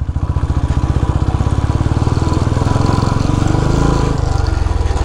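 A motorcycle engine laboring loudly and close on a rough, wet mountain trail to Dhorpatan, a steady throbbing rumble with fast regular pulses that dips briefly near the end.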